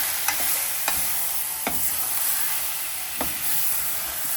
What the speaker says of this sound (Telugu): ఇలా కలిపేసుకోండి.